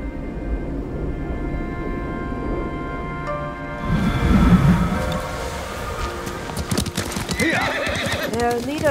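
A ridden horse in the samurai video game Ghost of Tsushima clip-clops along, then lets out a loud neigh partway through, with hoofbeats continuing under a faint game soundscape.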